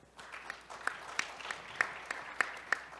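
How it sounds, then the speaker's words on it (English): Audience applause at a roundtable on security and AI, a steady patter of many hands clapping at moderate distance, with sharper individual claps standing out, alone without talk. "Please welcome him with a big round of applause."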